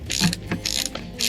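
A hand ratchet clicks through several quick, close strokes, tightening bolts on a truck speaker mount.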